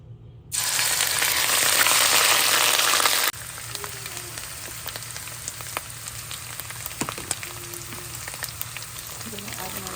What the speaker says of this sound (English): Start our fried rice.